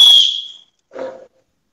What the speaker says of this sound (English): The elephant whistled and signaled the start of the race.